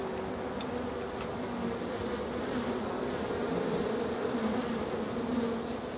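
Honeybees inside a hive produce a dense, steady buzzing drone that holds at an even level throughout with no pauses, close and full.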